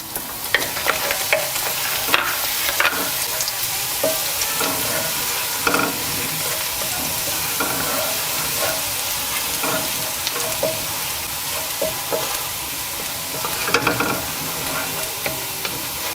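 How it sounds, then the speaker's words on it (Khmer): Garlic frying in hot oil in a wok gives a constant bright sizzle, broken by occasional sharp scrapes and taps of a utensil stirring. No one talks. "ឥឡូវដាក់ ខ្លាញ់ចូលក្នុងខ្ទះហើយវា ខ្ទះនឹងក្តៅហើយនាងខ្ញុំចាប់ដើមដាក់ខ្ទឹមចូល ហើយកន្លៅខ្ទឹមហ្នឹងឲ្យវាក្រហមបន្តិច"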